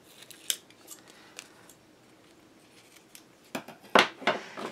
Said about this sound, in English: I need my scissors. So I'm going to cut off any overhang here.